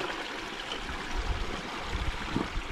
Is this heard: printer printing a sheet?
no